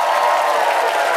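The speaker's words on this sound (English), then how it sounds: "There's the applause you've been missing, Jimmy" Studio audience applause at a late-night talk show, a dense, steady wash of clapping filling the whole moment at close, loud level with no voices over it.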